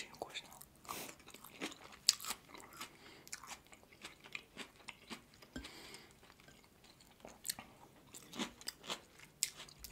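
Close, quiet chewing and biting of meat dumplings (manty) at a soft-spoken mukbang, with irregular wet, soft crunchy mouth sounds repeating throughout and faint speech at times.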